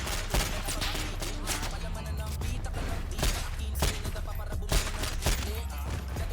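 Repeated gunfire in quick volleys, sharp bursts cracking out one after another over a steady noisy background, with shouting voices mixed in.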